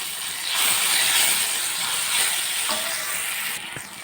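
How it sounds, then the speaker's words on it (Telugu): Ginger paste frying in a pan for a fish curry, a loud continuous hissing sizzle, close up and without pause, with a faint clink near the end. "కొద్దిగా అల్లం పేస్ట్ కొద్దిగా అంటే కొద్దిగానే ఇలా వేయించుకోవాలి"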